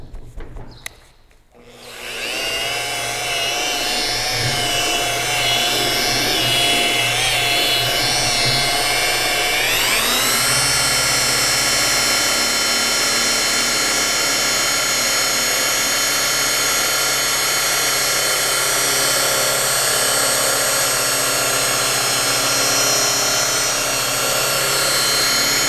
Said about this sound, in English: the cutting compound with the rotary and a wool pad